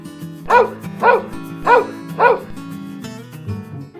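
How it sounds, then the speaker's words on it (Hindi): Four evenly spaced dog barks, loud and close, over a backdrop of music. "तब कुत्ते खुशी से बऊ बऊ बऊ कहकर चिल्लाए।"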